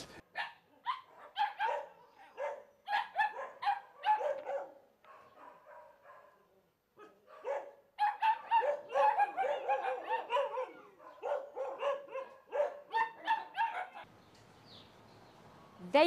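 Dogs at a dog pound bark loudly and close by in rapid, overlapping bursts, with a few short pauses between volleys, before a steady hum takes over at the end.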